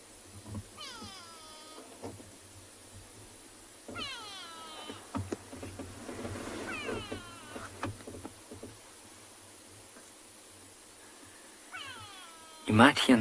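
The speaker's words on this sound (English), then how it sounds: "You might hear in the background there's a bird calling like way." A grey go-away bird calls in the background on an evening safari, with repeated drawn-out nasal cries rising and falling a few times over a soft ambient hum, and a person talking faintly nearby.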